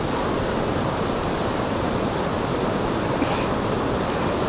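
Cold Kedar Ganga river water, fed from Kedar Tal, rushes in a steady, dense roar close by, continuous and broadband with no pauses and no voices.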